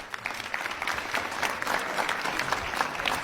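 Steady applause from a comedy show audience, many hands clapping close together in a dense, continuous patter that holds for the whole stretch without talk.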